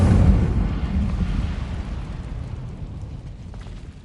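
The Incendio fire spell cast in Hogwarts Legacy, heard as a deep, rumbling burst that swells at once and then slowly fades into a low roar, alone without speech.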